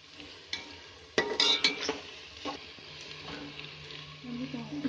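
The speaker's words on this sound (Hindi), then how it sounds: "प्याज को बिल्कुल नरम करना है, गुलाबी हो जाए। नरम करने में 2 से 3 मिनट लग जाएंगे।" Onions sauté in a pan until soft and pink for a shahi aloo gobi matar dish, giving a soft sizzle broken by clattering stirs and scrapes against the pan, with no talking.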